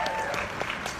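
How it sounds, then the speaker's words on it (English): A short burst of audience applause at a business success-story gathering, with dense, fairly loud clapping filling the whole second. "I have to give him a massive applause, Paige Ripple."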